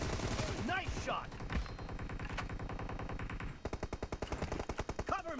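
Rapid automatic gunfire from the mobile battle-royale game PUBG Mobile, dense bursts of machine-gun fire running almost continuously with a sharper rhythmic stutter near the end, loud and close, with brief game voice cues underneath.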